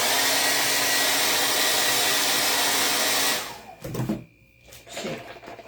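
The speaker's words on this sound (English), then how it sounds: "Okay, and blow dryer." A handheld blow dryer runs with a steady loud whirring hiss for several seconds, then cuts off, leaving quieter handling noises and rustling.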